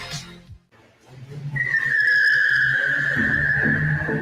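Car tires squeal under hard braking, a sustained high screech rising after a brief engine pass and holding loud and close for several seconds over the car's rumble, with no talking.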